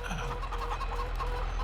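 Chickens cluck softly in a farmyard in the Farming Simulator 25 video game, faint, busy and continuous beneath a low steady hum.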